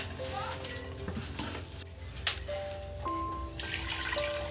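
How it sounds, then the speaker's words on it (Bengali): Water poured into a pot of chicken biryani gives a steady close splashing and bubbling wash over a low cooking rumble, with light metallic clinks of a spoon. "এটাকে জল দেওয়া হচ্ছে"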